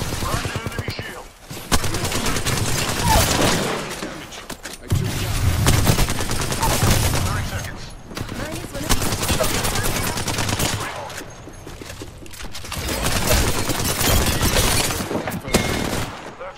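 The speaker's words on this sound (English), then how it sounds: "Taking fire, boss." Rapid automatic gunfire in Apex Legends, dense bursts of shots and booms repeating across the whole stretch, loud and close, with brief quieter gaps between volleys.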